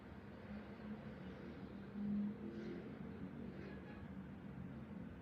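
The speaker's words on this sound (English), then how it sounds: "all you hear is traffic because I have the window open" Road traffic drifts in through an open window as a steady low rumble, with one vehicle briefly swelling louder around two seconds and faint passing swishes afterward.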